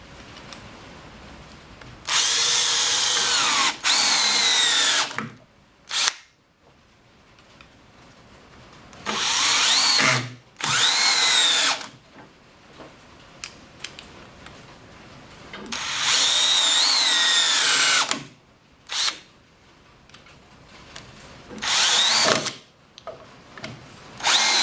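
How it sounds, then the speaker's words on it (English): A Hart 20V 1/2-inch drill drives 5/16 by 3 inch construction lag screws into wood, giving several loud, sustained whirring bursts of a few seconds each, separated by short pauses and brief blips. "we're going to go to our 5/16 by 3 inch construction lag screws"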